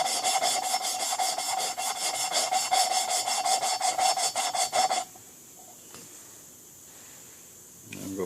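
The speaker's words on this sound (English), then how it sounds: "You can hear the granules in that compound grinding." Lapping compound grinds a valve against its seat on a 1976 Harley-Davidson Ironhead Sportster XLH1000, a close gritty rasp in rapid back-and-forth strokes for about five seconds before it stops and leaves quiet background.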